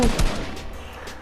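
Rifle gunfire in an online shooter game: a couple of sharp, loud shots at the start, followed by a fading echo and low game ambience, with no talk over it.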